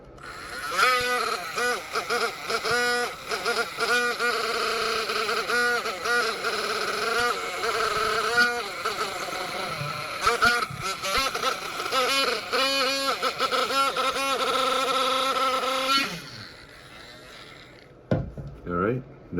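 A rotary wire wheel polishes a custom Beyblade metal wheel with a steady, wavering mechanical whine that runs for about sixteen seconds and then cuts off, leaving a few faint knocks.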